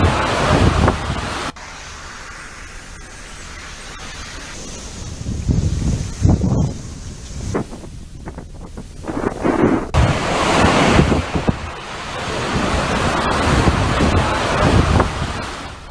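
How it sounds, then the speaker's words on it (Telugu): Hurricane winds and heavy surf batter the coast of Barbados, with roaring, gusting wind buffeting the microphone over crashing waves, loud and continuous with surges and brief lulls, no voices. "ఈదురు గాలులు, భారీ వర్షంతో బార్బడోస్ లో పరిస్థితి భయానకంగా ఉంది"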